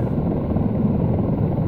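A Comanche helicopter flies in the Comanche game, its rotor and engine making a steady, loud, close droning whir with no talk.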